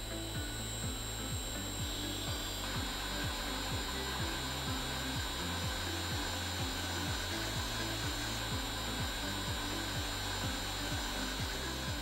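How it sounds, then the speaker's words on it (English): A second pump motor, driven by an ATV600 variable-speed drive, runs with a steady loud hum and a repeating mechanical pulse that rises in pitch as the motor starts up alongside a constant whine. "The second motor is starting."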